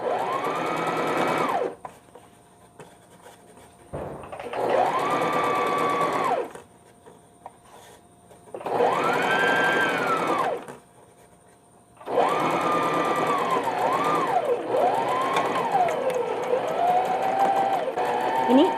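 An electric sewing machine stitches a saree blouse lining to the outer cloth in bursts of steady whirring, starting and stopping between pauses, loud and close, the later runs changing speed.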